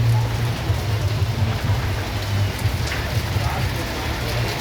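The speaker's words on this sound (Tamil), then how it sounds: "பயங்கரமான மழை பெஞ்சிட்ருக்கு" Heavy rain pours down steadily in Tirukkovilur, a dense, continuous hiss and patter close by, with a faint low hum underneath and occasional voices.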